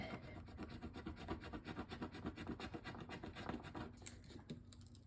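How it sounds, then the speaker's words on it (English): Material is scraped off an embellishment cluster in quick, faint, rhythmic rasping strokes heard close up, with no talking. "So you just kind of keep scraping it off."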